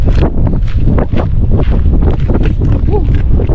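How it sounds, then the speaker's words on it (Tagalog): Loud, cold wind buffets the microphone in rough, rumbling gusts close up at a waterside fishing spot at night, with faint voices mixed under the blustery noise. "Lamig ng hangin."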